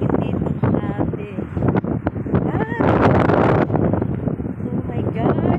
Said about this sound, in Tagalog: Sobrang lakas ang hangin dito.